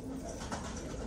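Pigeons coo softly and steadily close by. No one speaks over the calls.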